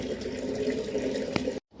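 Water running steadily from a tap into a container, a constant close rushing stream that cuts off abruptly near the end.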